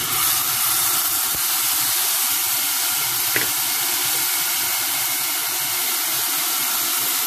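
Tomatoes hit a hot pan already holding garlic while Yemeni-style okra (bamiyah) is cooked, giving a loud, steady, close sizzling hiss that holds throughout.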